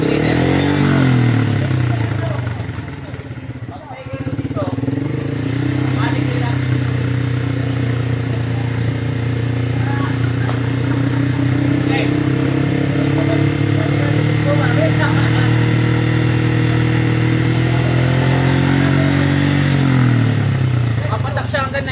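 A motorcycle engine is held at a steady high idle around 2,500 RPM during a roadside decibel test, a loud continuous mechanical drone with a brief dip early on, while people talk over it.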